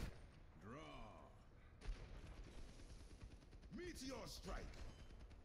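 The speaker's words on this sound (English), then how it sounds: "So they're shooting you." Rapid video game gunfire aimed at the player's character, heard as dense bursts of shots running under steady voices talking throughout.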